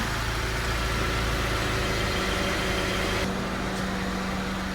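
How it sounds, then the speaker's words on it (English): Air suspension pump on a Mercedes E300 W213 running continuously during a rear air spring and shock replacement, a steady close mechanical hum and whir with a slight shift in tone partway through, no talking. "The pump is still going."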